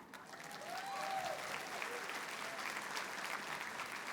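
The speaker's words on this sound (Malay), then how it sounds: "Beri tepukan dekat anda." Applause from a seminar audience at a sales academy event swells in and holds steady, a fairly distant crowd clapping with a few cheers or whoops rising above it.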